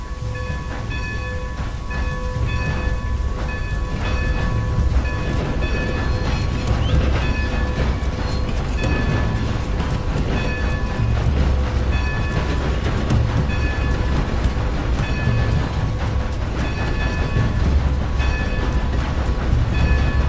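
A train rolls along steadily in the Western game Red Dead Redemption, a continuous loud low rumble with rhythmic clatter and a faint horse-like clopping mixed in, running unbroken throughout.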